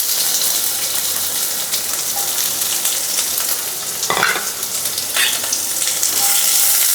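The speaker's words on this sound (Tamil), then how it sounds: "வெங்காயம் எல்லாம் வதங்கி வரட்டுங்க." Chopped medium-size onions sauté in hot oil in a pan, giving a steady, dense sizzle throughout with a few brief scraping stirs partway through, close and fairly loud with no talking.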